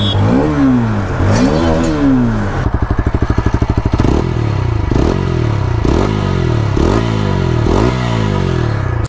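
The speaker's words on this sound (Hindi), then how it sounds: "तो अब जो है आप दोनों बाइक्स का एग्जॉस्ट नोट सुन लीजिए, न्यूट्रल कर दिया हूँ।" Hero Xtreme 160R 4V and TVS Apache 160 4V motorcycles in neutral, with loud close engine revs swelling and falling, a steady throbbing idle, then repeated blips of the throttle.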